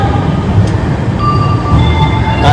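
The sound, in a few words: Shirdi Sai Nagar express train departing Chennai Central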